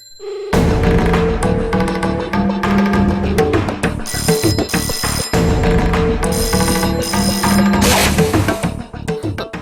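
A telephone rings loudly and continuously in a television drama scene, the electronic ringtone repeating in steady bursts that fill the whole stretch, with no voices over it.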